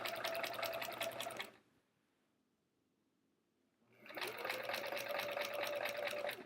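A sewing machine stitches a thick quilt seam through several layers of fabric and batting with metallic thread, running in two steady bursts with a pause of silence between them, close and clear.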